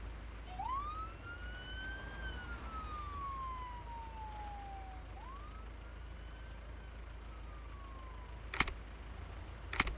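Emergency vehicle siren wailing at a distance, two long rising and falling sweeps over a low background rumble, followed by a couple of brief sharp knocks near the end.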